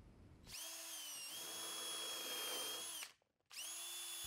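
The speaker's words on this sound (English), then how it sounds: "The setting tool drives the flat-headed Cortex fastener to the correct depth every time." A setting tool drives flat-headed Cortex hidden fasteners into Trex fascia boards, giving two loud, steady whirring bursts from a power driver with a short pause between them and no talk.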